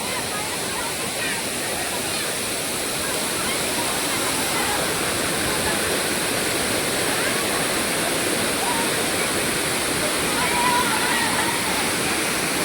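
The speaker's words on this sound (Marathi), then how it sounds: "एक नंबर धबधबा आहे बाबा" Savdav waterfall in Konkan, Maharashtra, crowded with visitors, gives off a continuous heavy rush of falling water, loud and near throughout, with voices faintly mixed into the roar.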